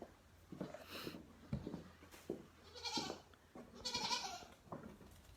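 Goats on a farm bleat repeatedly in short, uneven calls, several overlapping cries rising and falling at close range over a quiet background.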